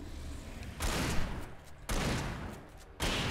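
Three sharp gunshots from the video game Alan Wake ring out about a second apart, each with a short booming tail, over a quiet background.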